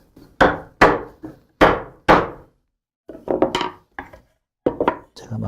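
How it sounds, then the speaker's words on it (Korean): A hammer taps a wooden dovetail joint together in furniture joinery, giving a run of sharp, close knocks in uneven clusters with short pauses between them. "제가 망치로 조금 쳐서"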